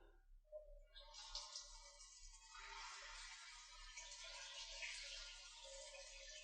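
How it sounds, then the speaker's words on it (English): Hot water runs in a shower, a faint steady hiss of spray that starts after a soft thump and continues evenly until the end. "He got in the shower and turned on the hot water."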